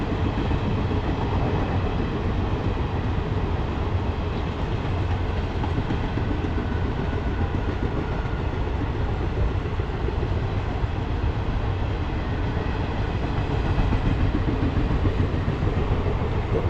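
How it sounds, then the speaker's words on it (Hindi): A train rolls by on the tracks near Bijwasan railway station in Delhi with a steady, continuous rumble and faint rhythmic clatter, sustained without a break and no voices. "रेलवे ट्रैक है जिससे रेल पास होते हुए"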